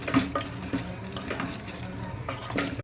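Cooked mutton fried in masala sizzles in the pan while a spoon stirs and scrapes it in several distinct strokes, close and moderately loud, with no talking.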